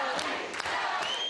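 A crowd cheers and shouts at a Conservative election night rally in the Canadian prairies, a brief, dense burst of loud voices and whoops.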